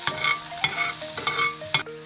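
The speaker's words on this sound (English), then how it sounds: "Chopped onion. Now I have to fry" Chopped onion stirred and frying in a pan on a stove, with repeated scraping strokes over a soft sizzle, close and fairly quiet.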